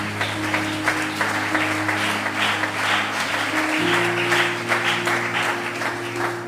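Church congregation applauding in praise, a steady wash of clapping over sustained organ or keyboard chords that shift pitch midway, continuous and fairly loud throughout.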